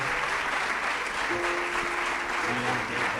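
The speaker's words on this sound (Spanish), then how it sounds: "damos un fuerte aplauso de agradecimiento" A church audience gives a loud round of applause in thanks to a Bible speaker, a dense, continuous roar of many hands clapping with faint voices mixed in.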